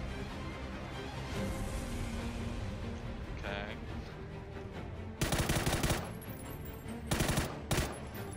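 Bursts of video game gunfire crack out in a loud automatic volley, then a second short burst and a final quick shot, over steady game background noise.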